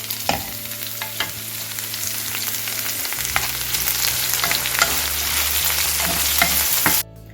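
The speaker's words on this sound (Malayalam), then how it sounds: "ഇനി നമുക്ക് വെണ്ടയ്ക്ക ഫ്രൈ ചെയ്തെടുക്കാം." Okra fries in a pan for a Kerala Onam pachadi dish, giving a steady, close sizzle and crackle with occasional stirring scrapes throughout, then cutting off abruptly near the end.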